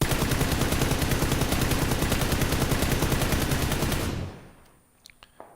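A rifle fitted with a compensator muzzle attachment fires a fast, loud string of shots for about four seconds, then stops abruptly, leaving a fading echo and a few faint knocks.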